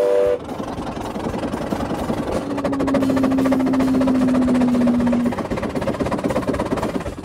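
A Stanley Steamer steam car whistle, sounded by pulling a chain, blows one long, steady tone for about three seconds over the continuous chugging and rumble of the running car.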